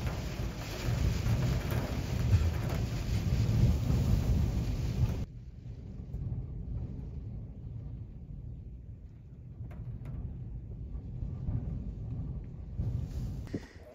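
Heavy rain falling on a sheep farm in nasty weather, a loud steady roar with rumbling wind gusts that drops to a softer, duller wash partway through.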